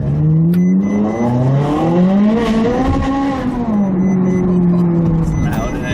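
A Ferrari 458 Spider revs loudly on the move, its engine note rising and falling in long sweeps throughout, with a person talking over it from inside the car.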